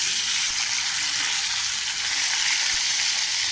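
Fish pieces frying in hot oil give a loud, continuous crackling sizzle close by, with no voices over it.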